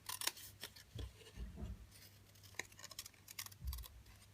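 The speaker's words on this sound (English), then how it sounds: "all we need to do now, really, is cut out our dragonfly." Scissors cutting out an embossed paper dragonfly for a stamped craft card, with soft, close snips and rustling paper at an uneven pace, quiet and without speech.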